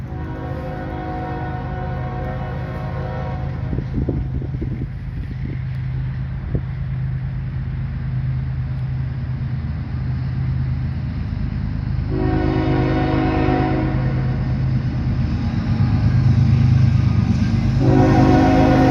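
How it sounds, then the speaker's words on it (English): A Norfolk Southern freight train led by a Norfolk and Western heritage locomotive rumbles past steadily, its horn sounding in several long blasts over the continuous rolling noise of the cars. "This is NS 21G with the Norfolk and Western Heritage Unit."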